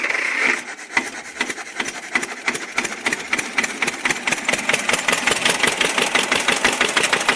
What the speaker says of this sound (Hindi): आ गया बाहर, निकल गया ट्रैक्टर हमारा।